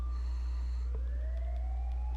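Police siren in GTA 5 Online during a Diamond Casino heist, a faint rising wail sweeping upward over a steady low hum for about two seconds, with no talk.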